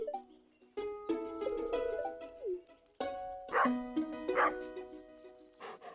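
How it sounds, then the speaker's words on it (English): Barks from a dog in the Stardew Valley video game ring out in short bursts over bright, tonal game music, with a few separate yaps spread across the passage. "Oh God, not more barking."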